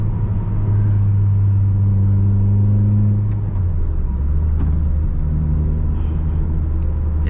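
A manual car's engine hums steadily up close while the driver downshifts, the low drone holding then dropping in pitch partway through as the gear changes, with faint cabin clicks and no talking.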